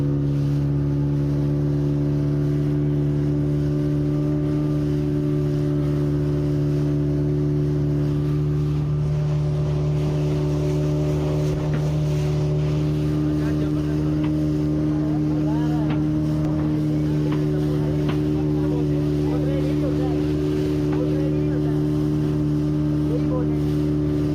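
Motorboat ride on the water in Goa, a steady engine drone with low tonal hum running throughout, water and wind noise over it and people talking now and then.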